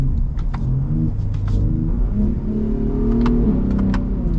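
A Ford Raptor pickup accelerates in manual transmission mode within normal drive setting, a loud, close engine rumble that rises steadily over a few seconds.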